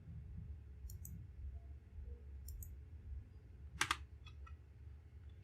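Computer keyboard keys pressed during a Ctrl+V paste in MS Word, a few sparse quiet clicks followed by a sharper cluster of taps near the end over a faint low room hum, with no talking.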